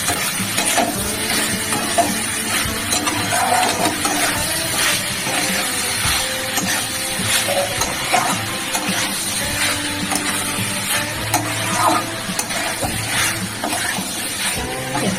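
Potatoes sizzle in oil in a pan while being stirred and sautéed for a country chicken curry with capsicum, a steady close hiss with scraping stirs throughout.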